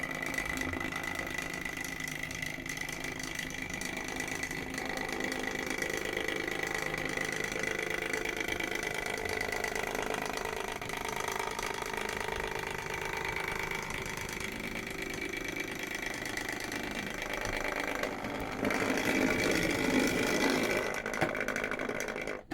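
A Triang Hornby Flying Scotsman model locomotive crawls slowly in reverse with a steady, faint electric motor whine and soft gear hum. It gets a little louder near the end.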